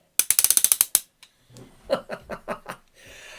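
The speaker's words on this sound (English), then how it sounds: "360 degree ratcheted ankle rotation." Ratcheted ankle joint of a Transformer toy rotating, a quick string of about nine sharp clicks, then a pause and a softer set of breathy, chuckle-like sounds.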